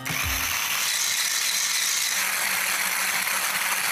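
Cold egg whites from three eggs are beaten steadily in a bowl, giving a continuous, loud, even rattling whir that runs throughout without pause.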